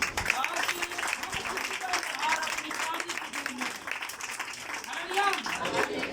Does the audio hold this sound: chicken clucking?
no